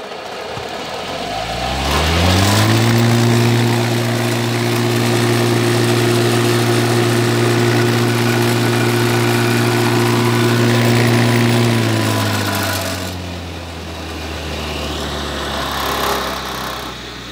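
A TRF 400 forage chopper and grass shredder motor starts, spins up to a steady loud whine and runs evenly for about ten seconds, then winds down as it slows.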